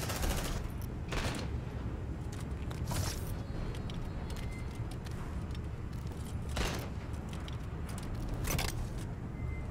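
Sentry gun firing in Aliens: Dark Descent, a dense continuous rattle of automatic fire with several sharper bursts standing out, loud and steady throughout.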